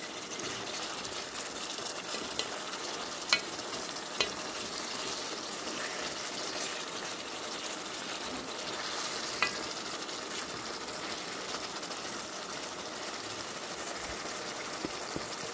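Carrot and tomato pieces cook in a pan for an Ethiopian dish, giving a steady, close, even sizzle with a few faint clicks from a utensil and no talking.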